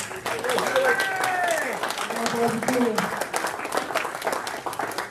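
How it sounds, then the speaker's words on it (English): At a Rotary club meeting, a room gives a round of applause lasting several seconds while voices chatter and call out over the clapping. "Big round of applause."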